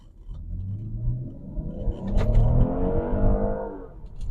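A 2016 Lincoln MKX Reserve accelerating hard, engine rumbling up from a low idle into a swelling roar that climbs and holds, heard close from inside the car.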